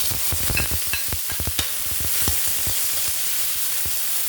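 Garlic, onion, ginger and tomato sautéing together in hot oil for a mung bean and chicken feet stew, with a steady sizzle under a run of close utensil scrapes and clicks that thin out after the first two seconds.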